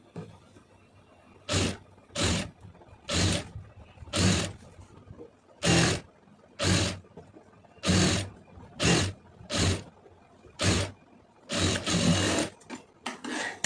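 Sewing machine stitching around a blouse neckline in quick bursts, about a dozen runs of fast whirring stitches separated by short pauses, loud and close with no talk.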